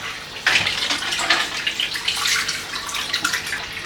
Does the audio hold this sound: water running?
yes